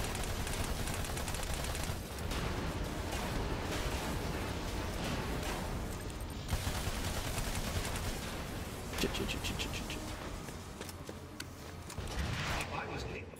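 Rapid gunfire and weapon blasts from the video game Battleborn crackle continuously through a dense, busy mix of game effects, with players talking over the action.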